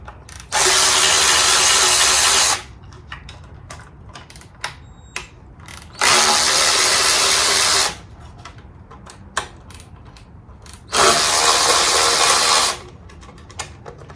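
A power tool spins off the valve covers on a Chevy 305 small-block engine in three loud bursts of about two seconds each, separated by quieter stretches with faint clicks and handling noise.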